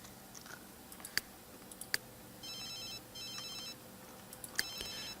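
A telephone rings in the video game The Sims 3 in three short repeated electronic bursts, mixed with scattered sharp clicks, with no talking.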